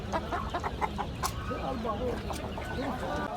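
Chickens cluck in bursts and overlapping calls at the Osmaniye poultry market, close and steady, with a busy crowd murmur underneath and brief voices in the background.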